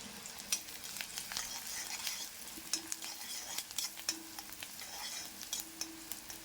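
Onions fry in hot oil, a quiet, close crackling sizzle punctuated by irregular sharp pops and spatters, with stirring scrapes throughout and no voices.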